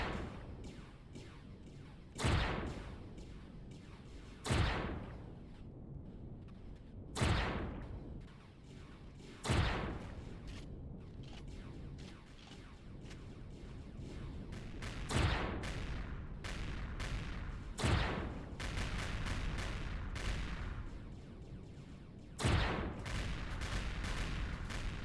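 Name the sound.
gunfire from a guardian shooting in the video game Empyrion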